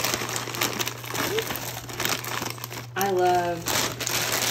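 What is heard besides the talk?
crinkling bag of frozen cut green beans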